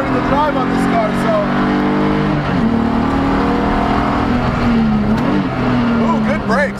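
A BMW Spec E46 330ci race car engine drones loud and steady on track, pitch climbing and dipping through gear changes with brief tire squeal, a voice talking over it.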